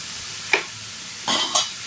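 Onions sautéing with salt in a pan for mushroom masala give a faint, steady sizzle close by, broken by a few short scraping stirs.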